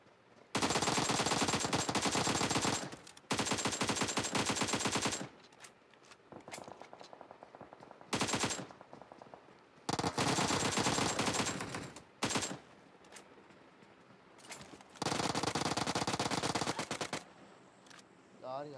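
Automatic gunfire in PUBG Mobile on the Erangel map, long sustained bursts of rapid shots repeating several times with short gaps, loud and close, with a voice talking over the quieter stretches.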